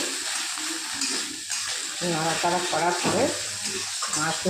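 Potato pieces, later joined by mushrooms, are stirred and fried in a pan for Maggi noodles, giving a steady low sizzle with scraping that continues under someone talking.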